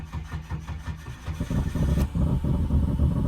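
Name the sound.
Eshay VT monster truck engine starting up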